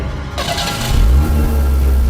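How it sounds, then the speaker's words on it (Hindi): After a brief rattle, an old car engine catches and starts after being push-started, settling into a loud, rough idle close by. "धक्का लगा देते हैं,"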